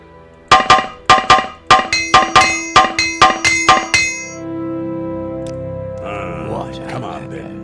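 Repair hammer striking gear in Morrowind, nine sharp ringing metallic clangs at a steady rhythm, loud and close, followed by a low hum and a brief chime.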